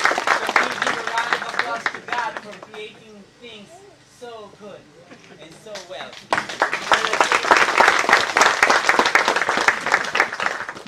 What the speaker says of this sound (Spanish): Vamos a darle un aplauso a Dios por crear las cosas muy buenas.